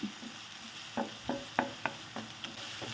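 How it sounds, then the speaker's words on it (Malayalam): Ginger garlic paste is sautéed for Hyderabadi chicken biryani, with a spoon scraping and stirring in a rhythmic series of distinct strokes over a low, steady sizzle, close and with no talk. "അതും നല്ലതുപോലെ വഴറ്റണം ഒരു മിനിറ്റെങ്കിലും വഴറ്റണം"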